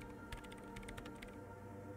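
A woman types on a computer keyboard in the video game Disco Elysium, a quick run of light clicking keystrokes over a low hum of background ambience, quiet and unaccompanied by speech.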